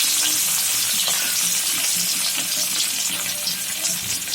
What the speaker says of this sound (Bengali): তো মাছগুলো ভাজা হতে থাক